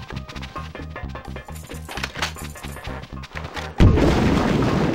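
A heavy weapon in the N64 game Conker's Bad Fur Day, in two-player Heist mode, fires a rapid run of booming shots. A louder, sustained blast follows near the end.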